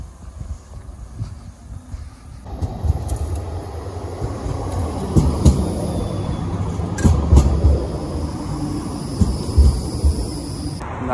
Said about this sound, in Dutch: Tram van de MIVB.